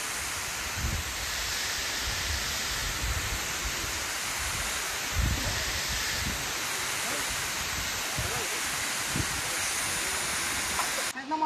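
Birthi waterfall at Munsiyari pouring down and flowing away as a steady broadband roar, with occasional low rumbling surges and faint voices in the background.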